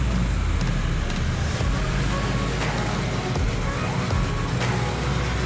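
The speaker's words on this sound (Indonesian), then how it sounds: "itu saja dulu gambaran kendaraan yang lalu lalang sambil kita menunggu yang di belakang" Steady roar of road traffic in a jammed street in Aikmel, East Lombok, with cars, motorbikes and heavier vehicles crawling close by, a continuous loud rumble with occasional brighter passes and faint voices underneath.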